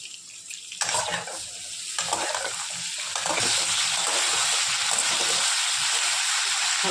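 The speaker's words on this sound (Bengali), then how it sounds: "এখন ভাজা করে নেব বেগুনটা আগে" Eggplant frying in hot oil with salt and turmeric: a sizzle that builds from moderate to loud and steady, broken early by a few stirring knocks, then a continuous close crackling hiss.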